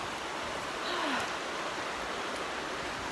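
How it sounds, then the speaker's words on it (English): River water ripples steadily along a trail in a state park with waterfalls, a soft, even rushing wash with no voices over it. "you have this peaceful sound of the rippling water."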